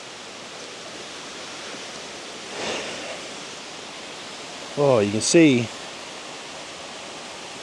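A river flowing beneath a bridge on the Sunshine Coast gives a steady, even rush of water throughout, with a brief voice speaking over it partway through.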